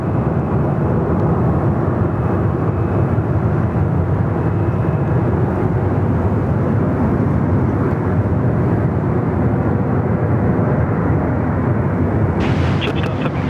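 A Vietnam Airlines Airbus A350 passes at Sydney Airport, producing a loud, steady jet roar that fills the whole stretch without letup and sounds fairly close.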